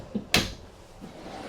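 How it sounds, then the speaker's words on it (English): An RV kitchen drawer on a 2026 KZ Connect 312RE travel trailer shutting against its magnetic catch, a single sharp close knock preceded by a soft slide, then quiet room tone. "Yep, with magnet close."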